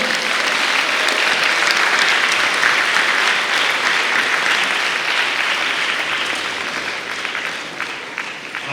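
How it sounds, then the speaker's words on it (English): Loud, sustained applause from a large crowd at a school alumni centenary reunion, clapping steadily throughout and tapering slightly near the end. "let's give the old Georgians a big, big round of applause"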